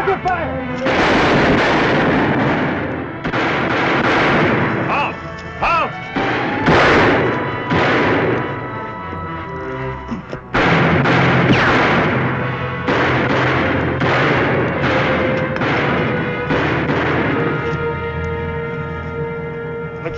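Gunfire in a Western-era shootout, with repeated loud bursts of shots in dense clusters, a brief lull, then another volley, with shouting voices mixed in.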